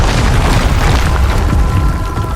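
A dense, loud explosive roar from a spell blast in the Hogwarts Legacy video game fills the whole moment, sustained and booming without a break.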